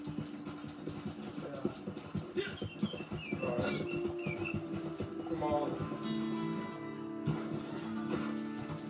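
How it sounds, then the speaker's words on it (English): Horse hooves clip-clop steadily while riding in the video game Red Dead Online, a continuous trotting rhythm under faint bird chirps and ambient game sound. "riding my horse to that town"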